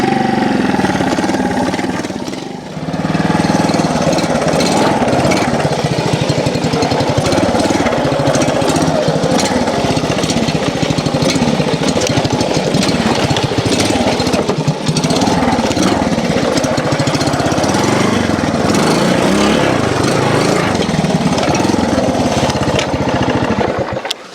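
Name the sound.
classic Honda TLR trials motorcycle engine running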